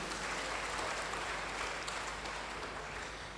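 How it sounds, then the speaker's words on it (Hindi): An audience at an achievers training event claps for its leaders and management, a dense, steady wash of applause that carries on evenly from start to finish at moderate volume. "और हमारे सभी लीडर्स और सभी मैनेजमेंट के लिए जबरदस्त ताली होनी चाहिए"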